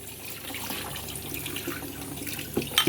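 Tap water runs steadily over coconut and other Chinese soup ingredients being washed in a sink, a continuous close splashing hiss with a few louder splashes at the end, alone without talk.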